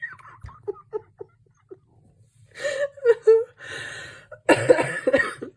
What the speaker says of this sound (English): sorry about me coughing